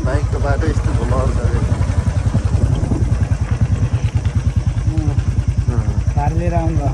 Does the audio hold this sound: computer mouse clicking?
no